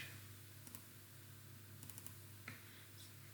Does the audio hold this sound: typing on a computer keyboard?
yes